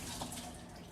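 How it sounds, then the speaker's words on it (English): Tap water pours continuously over cilantro being rinsed, a faint, even rushing splash lasting about a second, with no talking. "So I'm going to rinse off the cilantro."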